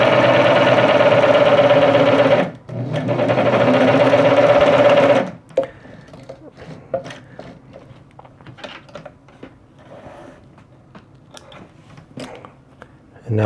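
A Singer 513 sewing machine runs a straight stitch in two loud, steady whirring bursts up close with a brief pause between, then falls quiet apart from light handling clicks and a person speaking.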